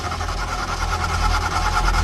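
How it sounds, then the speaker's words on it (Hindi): An old junk car stalled mid-road in pouring rain cranks with a heavy, rumbling, pulsing engine drone that never catches, loud and continuous for the whole moment. "इंजन ने हल्की आवाज की,"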